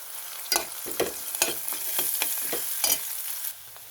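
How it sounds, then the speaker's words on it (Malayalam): Cashews and raisins frying in a pan are stirred, producing a steady hiss of sizzling oil broken by repeated spoon scrapes at roughly half-second intervals, close and clear, until the sizzle drops away near the end. "ഇവയെല്ലാം ഇട്ട് നല്ലതുപോലെ ഇളക്കി കൊടുക്കാം"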